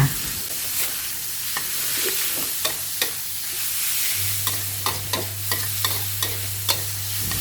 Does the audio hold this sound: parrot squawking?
no